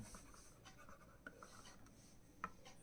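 Pen or chalk writing on a board while a maths problem is worked out, faint scratchy strokes in an irregular rhythm, with a few louder taps near the end.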